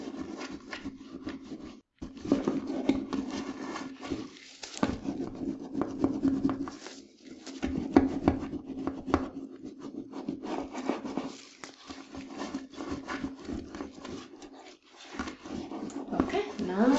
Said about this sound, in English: so we are just going to give it one more scrub.